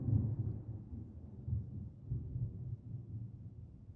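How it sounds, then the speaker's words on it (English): Low, distant thunder rumbles during a Mass Effect playthrough, a muffled, deep rolling sound that swells and fades several times over four seconds, dull and dark with no sharp crack. "You heard the thunder? I love it. I love the sound of it."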